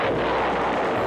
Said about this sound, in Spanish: con un disparo preciso, estalla el tanque y el tiburón muere